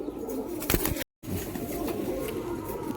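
A Kalanka pigeon coos up close, soft low throaty calls repeating on either side of a brief silent break, with no talk over them.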